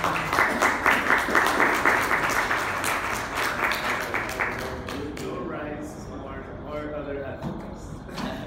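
Audience applause after a technology presentation, a full burst of clapping that is loud at first and then gradually thins into scattered claps, with voices murmuring through the room as it fades.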